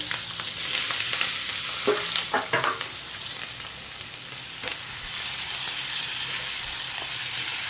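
Green chillies slid into hot oil with asafoetida sizzle steadily, with close stirring scrapes and a few sharp clinks against the pan, the frying hiss swelling louder toward the end.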